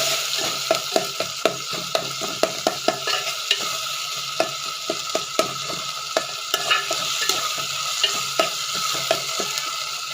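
Tomato pieces frying in a pan for a curry, a steady close sizzle punctuated by a quick, irregular run of spatula taps and scrapes throughout, with no talking.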